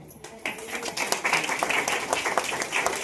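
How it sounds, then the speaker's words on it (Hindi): A church congregation claps for one another, a busy, fairly loud rattle of many hands with voices talking and calling out over it. "एक दूसरे के लिए ताली बजाएंगे"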